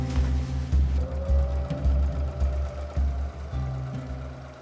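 A sewing machine runs in bursts, stitching a cloth headboard cover freehand with no pins, its steady motor whir and needle chatter loud and close, pausing and restarting several times.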